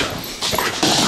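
A tree dog whimpers close by, giving short high whines and a yip or two in quick succession.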